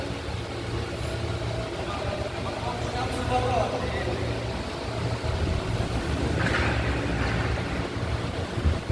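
A 2024 Mitsubishi Triton's 4N16 turbo diesel engine idling, a steady low rumble with a faint whirring layer, heard close and continuous throughout.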